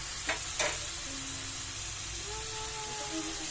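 Bitter gourd sautéed with eggs in a pan: a steady, close sizzle and hiss of frying, with a couple of quick stirring clatters near the start and no talking.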